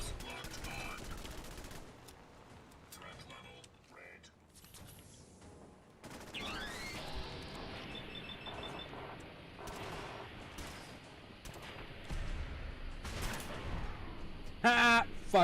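Gunfire in a big fight in Fallout 4, with bursts and volleys of shots running through the clip, growing louder and denser toward the end, mixed with game effects.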